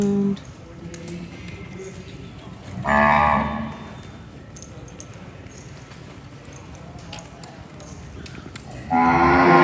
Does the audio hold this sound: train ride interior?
no